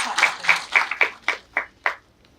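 At a university awards ceremony, a small group claps for a visiting dean in about seven loose, distinct beats that fade out over two seconds, close and fairly loud.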